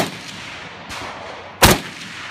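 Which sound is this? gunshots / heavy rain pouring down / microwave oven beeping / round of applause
gunshots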